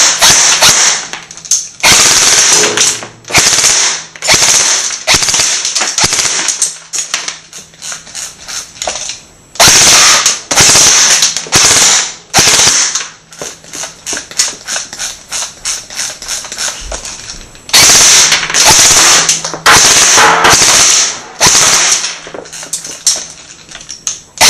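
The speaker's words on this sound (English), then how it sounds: "just put some rounds through a cardboard box" Airsoft gun with a DeepFire full tune-up kit in its gearbox firing into a cardboard box, loud rapid full-auto bursts of mechanical clatter separated by short pauses, close up, some strings long and others clipped short.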